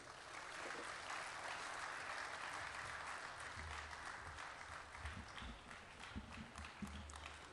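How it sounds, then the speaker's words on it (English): A large crowd claps for a speaker at the Ghana Automotive Summit, a continuous, fairly distant wash of applause that holds steady for the whole stretch with a few low thumps beneath it. "Let's give him a huge round of applause"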